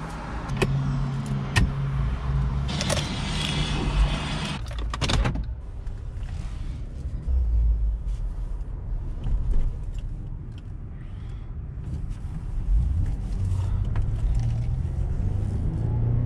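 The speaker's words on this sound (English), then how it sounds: "So I just gassed it, and I'm gonna take it down the road here and see if I feel the same thing." A 2017 Chevrolet Traverse is driven down the road, heard from inside as a steady low engine and tire rumble, with a few clicks and rattles near the start.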